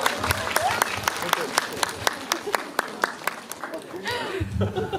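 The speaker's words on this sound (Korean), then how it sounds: "박수 한번 부탁드리겠습니다" A cinema audience claps for a stage greeting at a movie theater, a scattered run of sharp individual hand claps with some laughter and murmuring, and a voice speaks at the end.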